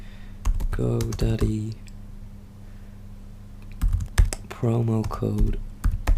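Typing on a computer keyboard while searching for a GoDaddy promo code: bursts of quick key clicks in two clusters, heard close under a speaking voice.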